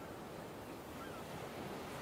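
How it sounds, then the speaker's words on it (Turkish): Sea waves wash in below a cliff, a soft, distant, continuous surf rumble with light wind, steady and unbroken with no voices. "duymuyor musun dalga seslerini?"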